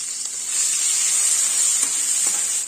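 Onions fry in hot oil for a fish dish, giving a loud, steady, close sizzle that hisses without a break and has no talk over it.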